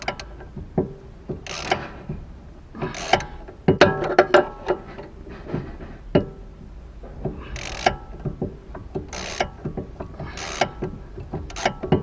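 Rapid ratcheting clicks from a wrench loosening the stabilizer link nut on a BMW E46 3 Series, in repeated bursts with short pauses between them, close and fairly crisp.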